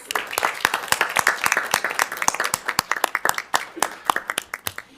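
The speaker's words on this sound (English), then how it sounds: "Let's give them another round of applause." Audience applause for athletes at a school board of directors meeting, a sparse room of individual claps with distinct, close, irregular hand strikes over several seconds.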